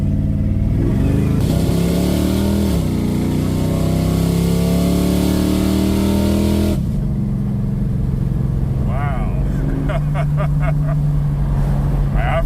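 A Plymouth Barracuda Hemi revs hard with its exhaust cutouts open, a loud, deep engine roar that swells and holds for several seconds, then drops to a rumbling idle with people talking over it.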